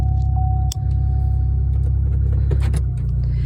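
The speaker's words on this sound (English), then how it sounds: "I had the muffler fixed on this and it still sounds horrible." A car with a loud, bad-sounding muffler idles with a steady low rumble throughout, close and droning, with a few faint clicks and rattles over the top.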